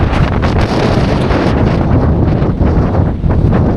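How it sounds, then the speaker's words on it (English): Strong wind buffets the microphone in continuous, loud rumbling gusts on Mount Isolation, New Hampshire, with no voices. "it's super windy even right here"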